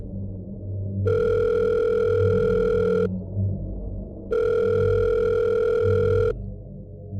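A hotel room telephone gives two long, loud electronic rings, each about two seconds, separated by a short pause, with a low hum underneath.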